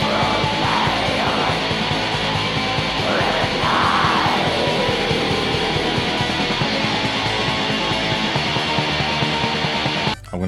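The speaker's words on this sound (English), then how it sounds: "black metal sounds like this." Black metal: a loud, saturated wall of fast distorted guitars and drums, with harsh shrieked vocals rising over the noise, continuous until a brief break near the end.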